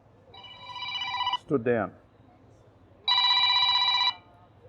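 A telephone rings indoors with two loud electronic bursts separated by a pause, and someone speaks briefly between them.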